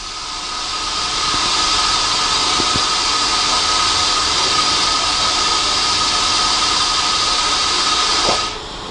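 A spin rinse dryer rotor carrying a light wafer load winds down as a loud, steady whir and hiss that holds constant before cutting off abruptly near the end.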